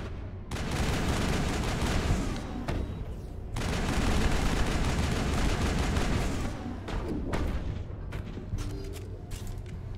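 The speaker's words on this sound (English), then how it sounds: "Somebody up here shooting at me?" Gunfire in Mass Effect 1 during a fight with the Geth comes as long stretches of rapid automatic shooting broken by brief pauses, loud and close, with scattered single shots and impacts trailing off toward the end.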